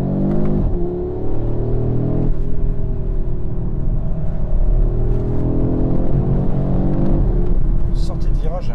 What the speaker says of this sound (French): Sortie de virage, elle réattaque bien comme il faut.